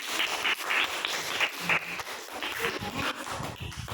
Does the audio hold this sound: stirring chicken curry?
no